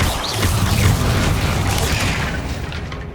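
A Bombarda spell explosion in the PS5 game Hogwarts Legacy, heard as one dense, booming blast with a heavy low rumble that holds steady and loud for a few seconds, alone without talk.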